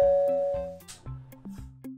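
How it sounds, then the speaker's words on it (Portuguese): A doorbell chimes in the Roblox Brookhaven video game, a sustained ding tone followed by soft repeated game sounds and faint background music. "Ai, deixa eu tocar a campainha aqui."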